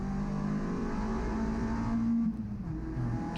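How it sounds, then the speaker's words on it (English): An MG race car engine on the Snetterton circuit, revving steadily and loudly through heel-and-toe downshifts, a continuous close engine drone with a brief dip near the end. "starting to get a little bit of heel and toe going"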